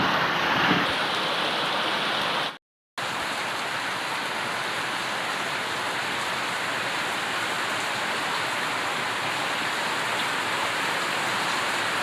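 Heavy rain pours steadily outdoors during a storm that floods a house, a dense, even hiss of close rainfall broken only by a brief moment of silence early on.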